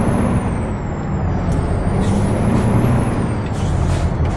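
A truck's air brake in American Truck Simulator lets out a loud, continuous pneumatic hiss with a thin high whistle running through it, close and unbroken for several seconds.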